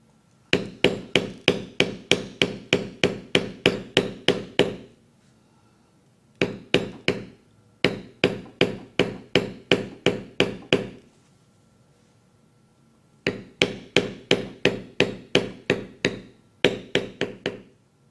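A mallet strikes a metal beveling tool on leather in rapid, evenly spaced sharp knocks, several runs of ten or more hits each separated by brief pauses, loud and close with no talk.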